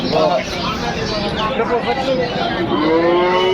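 A cow lows amid a busy cattle market, its drawn-out moo rising near the end over constant crowd babble and nearby talk.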